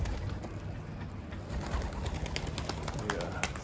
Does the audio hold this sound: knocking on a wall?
no